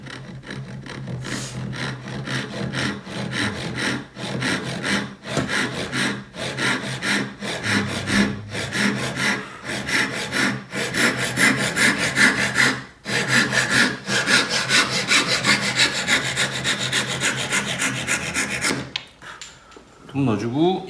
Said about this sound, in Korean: 사선으로 톱질을